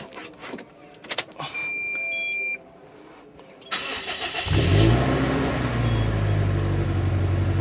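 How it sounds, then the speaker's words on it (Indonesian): A Toyota Innova fitted with a super capacitor cranks over briefly after some clicks and small handling noises, then starts and settles into a loud, steady idle close by. "Oke, kita tinggal nyalain mesin aja."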